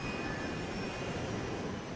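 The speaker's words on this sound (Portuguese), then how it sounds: "o avião acelera na pista" An airliner's jet engines roar steadily as it accelerates down the runway on takeoff, a continuous broadband rush with thin high whines, moderately loud and uninterrupted.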